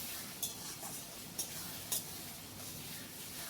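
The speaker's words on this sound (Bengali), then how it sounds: "ভালো করে নাড়িয়ে দেব" Onion, tomato, ginger and green chili paste is stirred in a pan while cooking mutton do peyaja, a steady soft sizzle broken by a few light scrapes and taps of the spoon, close and fairly quiet.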